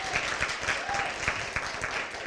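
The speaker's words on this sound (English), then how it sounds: "a quick round of applause for Bob for being here this morning" An audience claps steadily through a morning coffee-and-conversation gathering, a short sustained round with a few voices mixed in.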